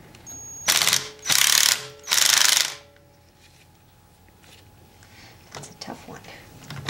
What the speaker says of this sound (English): you can take that bolt out of the dipstick tube